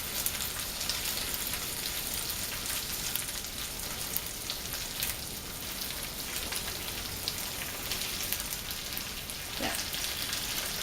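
Frozen pierogies fry in a pan on top of onions, giving a soft, steady, crackling sizzle that holds close and even throughout, with a brief spoken word.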